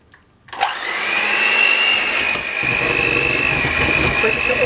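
A whisk works through batter with milk and cocoa powder, starting after a short quiet moment and a knock, then settling into a loud, steady whirring drone that holds to the end.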